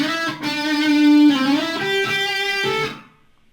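An electric guitar plays a riff, a short melodic line of sustained notes with a hammer-on and slides, ending with a cut-off, clear and unaccompanied.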